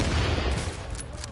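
Sustained enemy gunfire in the video game The Division, a loud overlapping fusillade of shots from several guns at once, steady throughout without pause.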